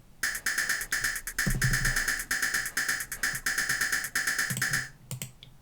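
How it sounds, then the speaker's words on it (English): Electronic hi-hats from a heavy electro techno track, a crisp, bright, rapid pattern of hissing ticks repeating steadily and loudly, with a few low thumps underneath and a short stutter at the end. "And then the next thing is the hats, which sound like this."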